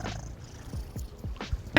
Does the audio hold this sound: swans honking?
no